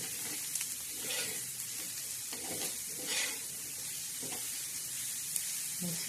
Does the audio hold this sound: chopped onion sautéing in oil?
yes